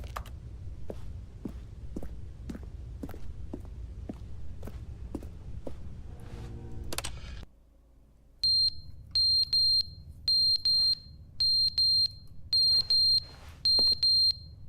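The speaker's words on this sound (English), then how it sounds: "The smoke detector's going off." Smoke detector in the video game The Stanley Parable beeps in repeated short bursts after a run of steady thudding footsteps, clear and fairly close with no talk.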